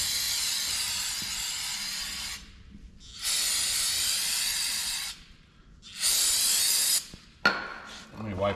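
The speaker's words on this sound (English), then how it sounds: "let's spray it off with some brake clean here" An aerosol can of brake cleaner sprays onto the rear brakes of a 1954 Chevrolet Bel Air in three long hissing bursts separated by short pauses, close and loud, followed by a brief clatter.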